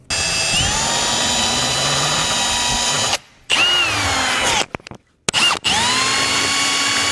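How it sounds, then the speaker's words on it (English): A drill with a carbide bit grinds out a broken nipple snapped off flush in the intake manifold of a Dodge Diplomat, a loud steady whine that stops and restarts several times in short bursts. "I took a carbide bit on a drill and just slowly walked it around the inside of that hole"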